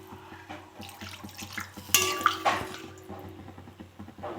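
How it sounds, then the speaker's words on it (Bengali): Water splashes into a pan of fish and potato curry, a brief burst of pouring and sloshing with light clinks of a utensil against the pan, fairly quiet and close in a home kitchen. "ভালো করে কষে নিয়ে জল দিয়ে দেবো"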